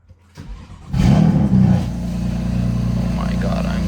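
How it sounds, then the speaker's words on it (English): A BMW M4 fires up from a cold start and roars with revving, then settles into a steady loud idle rumble, close by, while a person talks. "we're gonna get a first cold start in like almost a week and a half"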